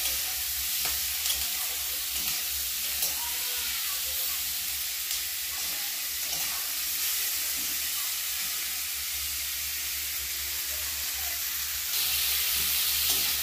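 Tomato being stirred into watermelon rind curry frying in a pan over a gas flame, with a steady close sizzle and hiss and occasional scraping strokes of the spoon throughout.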